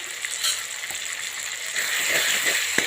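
Coriander-cumin powder sizzling in hot oil in a vegetable dish, a steady close hiss with a few soft stirring scrapes that grow busier toward the end.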